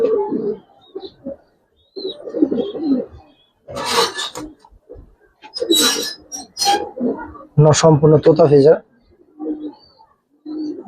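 Giribaz highflyer racer pigeons cooing in repeated bursts, close and fairly loud, with someone speaking between and over the calls.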